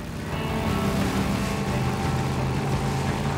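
A motorcycle engine with nitro boost revs in the Days Gone video game, a steady, loud engine roar that swells slightly and holds for a few seconds, with no talk.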